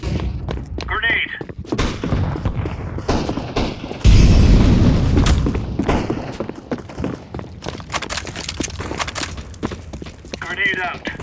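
A grenade blast in the Counter-Strike 2 shooter lands as one loud, close boom with a long rumbling tail. Scattered gunfire, footsteps and speaking voices fill the surrounding game action.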